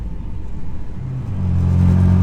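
A BMW F80 M3 accelerates onto a race track. A low engine rumble rises into a loud, steady droning rev with clear tonal harmonics that builds over the last second, heard from close by with no talk.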